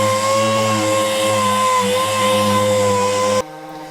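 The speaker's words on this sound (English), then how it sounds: "Then it was loads of sanding to get the wood back into decent condition." A steady, loud mechanical whine with a droning hum runs continuously as a power sander works on an old wooden Victorian door, then cuts off abruptly near the end.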